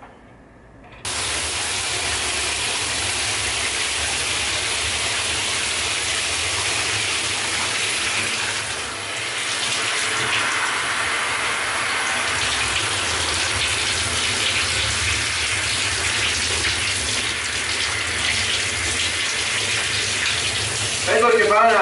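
A shower runs in a bathtub, a strong, steady hiss of spraying water that starts abruptly and keeps going loud and close for about twenty seconds, shifting slightly midway.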